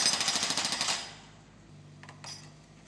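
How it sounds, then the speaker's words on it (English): A hydraulic breaker on a construction site pounds concrete being broken up for a new footpath, a fast loud rattling hammer for about a second that then stops, leaving low machine rumble and a couple of faint clinks. "They're breaking up the concrete so the workmen can build a new footpath."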